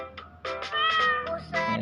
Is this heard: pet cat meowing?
yes